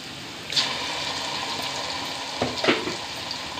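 Freshly ground ginger garlic paste frying in a pan gives a continuous bright sizzle, with a couple of louder crackling spurts as it is stirred.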